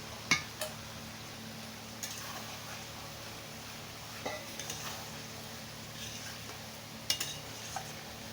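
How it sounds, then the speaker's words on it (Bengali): Fried pointed gourd being stirred in a cooking pan as part of a potol chingri dish: quiet scraping with a few sharp clinks of a spoon against the metal over a faint low sizzle. "ভেজে রাখা পটলটা দিয়েও ভালো করে মিশিয়ে নিলাম।"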